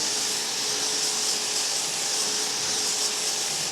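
A battery-powered Greenworks 60V 3000 PSI pressure washer fed by a garden hose runs steadily at about 2500 PSI, giving a loud, continuous broadband hiss and whine that stays even throughout, with no talking.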